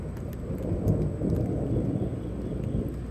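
Thunder rumbles low and steady through a lightning storm in Houston, Texas, with rain pattering on surfaces throughout; a continuous, moderately loud storm bed with no voices.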